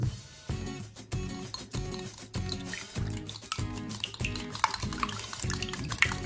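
Three eggs with a teaspoon of salt being whisked by hand in a bowl: quick, evenly spaced strokes repeat roughly twice a second, close and steady, over a constant musical background.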